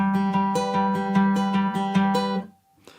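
A short finger-picked acoustic guitar intro, with steady, evenly spaced notes ringing out clearly, then fading to near silence at the end.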